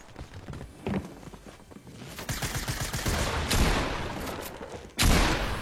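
Gunfire in a Fortnite match comes as a dense, crackling burst of shots with a heavy impact near the end, loud and busy throughout, with no talking over it.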